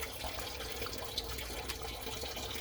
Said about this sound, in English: we got all the water drained out